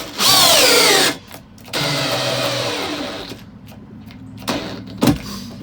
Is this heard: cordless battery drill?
yes